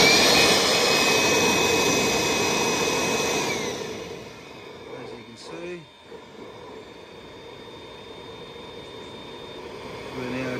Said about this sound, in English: Generating a whole bunch of airflow between the controller and the battery.